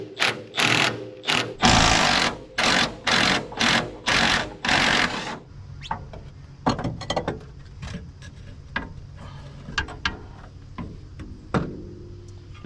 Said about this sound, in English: Now we can take off the two top 15mm nuts and this strut should drop right down.